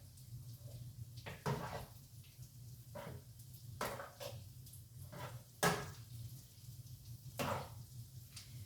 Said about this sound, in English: Continue to stir my pasta together